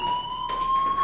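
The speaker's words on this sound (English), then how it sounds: "Hey, do you hear that fire alarm? That means you should be outside." A school fire alarm rings in the video game Life Is Strange, a loud, steady electronic tone with a brief pulse midway, heard alone for about a second.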